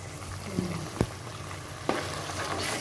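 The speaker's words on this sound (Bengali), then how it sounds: "এই পেস্টটা দেওয়ার পর কিন্তু কনস্ট্যান্টলি এটাকে নাড়িয়ে যেতে হবে।" Spice paste fries in a pan for palak saag, a steady sizzle broken by a few sharp knocks of a utensil stirring against the pan.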